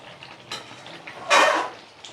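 A utensil scrapes and knocks in a pan while stirring chicken curry with garam masala, a few brief clinks and one louder scraping stir, close and clear against a quiet kitchen background.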